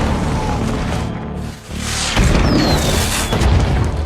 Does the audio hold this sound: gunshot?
yes